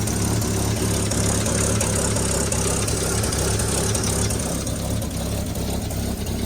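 A 1954 Chevy 3800 truck engine runs steadily just after starting, a loud, continuous low rumble with a rough idle and faint knocking, close up and without talk.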